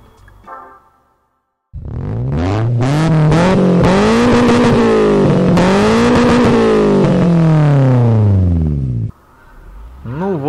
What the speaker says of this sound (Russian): Классическое задание Gran Turismo, разгон, торможение.